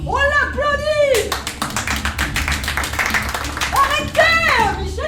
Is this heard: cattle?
no